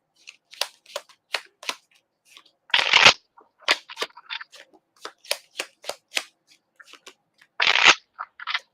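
A deck of playing cards is shuffled up close: quick crisp flicks and riffles in irregular bursts, with two longer buzzing riffle cascades, and no talking.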